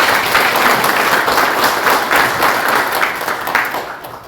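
Audience applause fills a Korean regional assembly opening ceremony for a Chungcheong regional bank, steady dense clapping from a large crowd that stays loud throughout and tapers slightly at the end.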